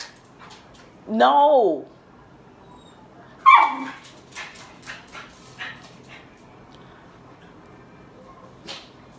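A dog named Nala whimpers in a long, rising whine, then gives a sharp bark followed by a few quieter yips, close by, while a person speaks nearby.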